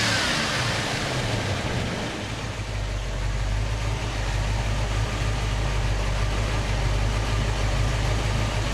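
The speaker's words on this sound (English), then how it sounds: "I worked pretty hard on getting that exhaust note to sound like that" A 1966 Ford Mustang Cobra Jet V8 runs steadily close by, a deep, continuous low exhaust rumble that thickens after the first couple of seconds and holds at an even level.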